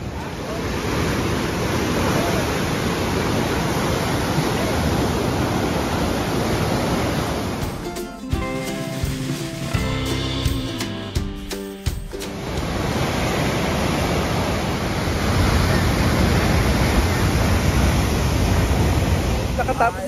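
Huka Falls waterfall, a continuous broadband rush of water that stays steady and close, briefly broken by a gap in the middle with clicking sounds before the roar returns.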